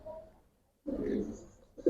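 Giribaz pigeons coo in a low, rolling murmur: a faint phrase, a brief silence, then a fuller, closer cooing burst with a short sharp sound at the end.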